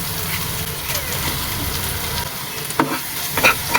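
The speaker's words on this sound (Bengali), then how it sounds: "এখন এইভাবে আস্তে আস্তে নেড়ে নেব চিংড়ি মাছ ভাজা না হওয়া পর্যন্ত।" Prawns fry and get stirred slowly in a cooked spice paste in a pan, giving a steady close sizzle with scraping stirs and a few sharper clicks near the end.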